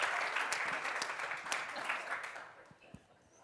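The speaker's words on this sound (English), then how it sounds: "All right, give Rob a round of applause." An audience applauds steadily at a sales seminar, with a dense wash of clapping that fades toward the end and a voice speaking over it.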